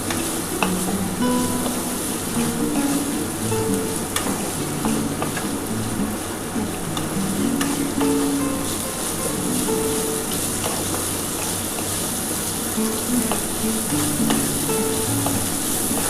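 Ingredients fry on a low gas flame for a fasting-day sago pulao, with a loud, continuous close sizzle, crackling pops and intermittent stirring scrapes throughout and no voices.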